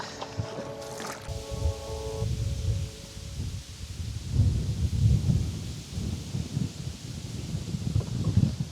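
Strong gusty wind blows outdoors by the water while fishing, buffeting loudly as a low, rumbling roar that swells and eases in uneven surges, with faint rustling.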